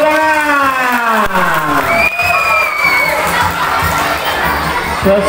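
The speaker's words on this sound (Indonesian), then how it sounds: "Tepuk tangan." Crowd of schoolchildren cheering and shouting throughout a school traditional costume contest, with applause mixed into the steady, loud noise of the crowd.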